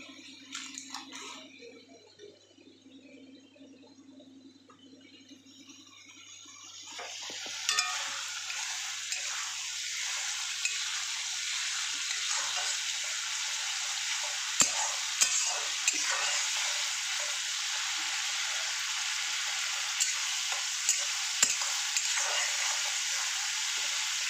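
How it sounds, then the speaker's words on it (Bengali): Spices and masala frying and being stirred in a pan, a steady close sizzle with occasional scraping clicks from the spoon, quiet at first and then continuous, with no talk. "আর একটু ভালো করে কষিয়ে নিই, তারপরে ঢেলে দেবো।"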